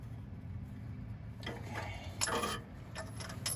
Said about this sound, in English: getting our last plug tightened right now